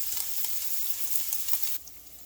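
Crumbled sausage broken into small pieces browns in a hot pan for sausage gravy, giving a close, steady sizzling hiss with light crackles that cuts off abruptly near the end.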